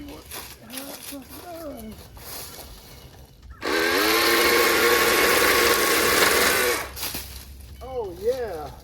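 A Milwaukee pole saw cuts through tree limbs along a property edge, a loud steady motorized whine with a cutting rasp lasting about three seconds, bracketed by someone talking before and after.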